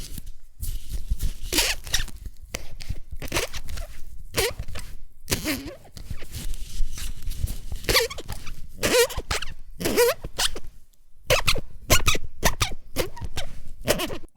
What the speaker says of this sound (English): of just bending the hips of the Barbie dolls.